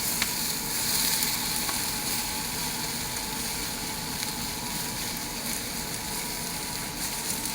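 Chicken and stir-fry vegetables sizzle in a cast iron pan, a steady bright hiss with faint crackles holding at an even level throughout, no talking.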